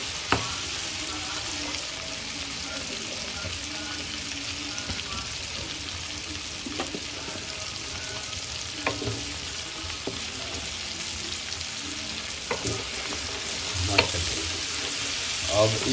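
Whole cumin, cinnamon, green cardamom and black pepper sizzling in oil in a pot for masaledar biryani, a steady close frying hiss with occasional stirring scrapes and clinks.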